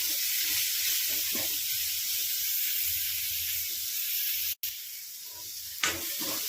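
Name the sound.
stirring chopped tomato in sizzling pan for egg biryani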